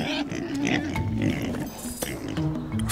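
Pigs in a petting zoo grunt and snort close by in a steady run of low, rough grunts. A voice talks over them at moderate level.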